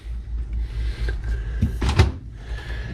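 The freezer drawer of a Samsung double-door fridge in a park model RV slides open with a close rolling rumble and a soft knock, over a steady low hum.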